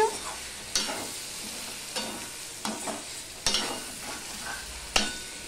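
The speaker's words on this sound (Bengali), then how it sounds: "আমি টমেটোটা দিয়ে মিশিয়ে নিয়ে প্রায় 1 মিনিটের মতন আমি রান্না করে নিয়েছি" A tomato mixture cooks in a pan while being stirred: soft sizzling runs throughout, broken by several sharp scrapes and clacks of the utensil at irregular intervals, close and moderately quiet, with no talking.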